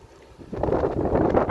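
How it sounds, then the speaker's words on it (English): Gusty wind buffets the microphone beside a canal during an outdoor home brew session, starting faint and then rising into a steady, loud rumbling roar that fills most of the clip. "it is a bit windy"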